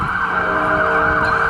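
Emergency vehicle sirens wail loudly on a street in York, a steady cycling two-tone sweep filling the whole moment with no voices over it.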